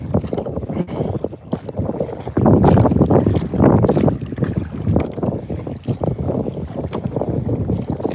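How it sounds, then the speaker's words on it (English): Two people paddling a kayak in tandem on open water during a fishing outing, with continuous splashy, wind-buffeted noise that swells louder around the middle of the stretch. "Yeah, they're tandem paddling."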